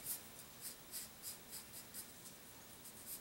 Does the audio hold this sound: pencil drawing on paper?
yes